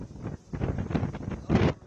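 Strong coastal wind during a cyclone in Tamil Nadu, gusting and buffeting in uneven bursts for about two seconds, with a louder blast near the end and no voices.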